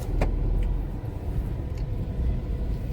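A car engine rumbles low and steady while the vehicle is being parked in the shade, with a couple of faint brief clicks and creaks over the continuous hum.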